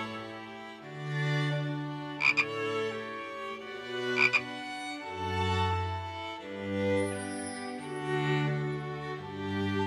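Deep, rounded frog croaks repeat in a slow rhythm under a bright children's cartoon music bed, with two short chime-like accents between them.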